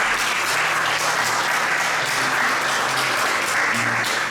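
Audience applause in Spanish-language event honoring a guest who teaches literature in prisons, continuous dense clapping throughout, loud and close with no speech.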